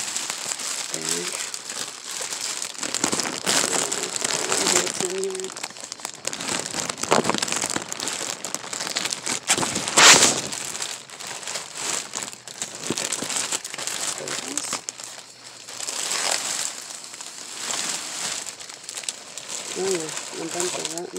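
Plastic chip bags crinkle and rustle continuously as they are handled inside a dumpster, with a loud close crackling texture running throughout while a person talks over it.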